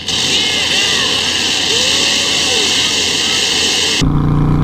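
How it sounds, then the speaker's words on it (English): A loud Harley-Davidson motorcycle engine rumbles and revs steadily, then cuts abruptly to a lower, different hum near the end. "I love the way this bike sounds."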